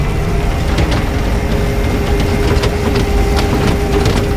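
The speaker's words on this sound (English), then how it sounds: "This is their 750 watt motor." An E-Rad 750 watt electric bike motor runs steadily with a continuous whine and hum, close and fairly loud, with faint ticking over it and no talk.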